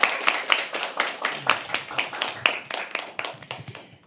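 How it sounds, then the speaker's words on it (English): An audience at a live poetry open mic claps for a few seconds, a dense burst of handclaps that is loud at first and then gradually thins out. "Can we please have another round of applause?"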